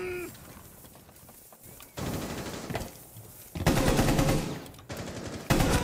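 Rapid automatic gunfire in Rainbow Six Siege, loud bursts of sustained fire in several stretches, separated by brief quieter gaps, with no talking.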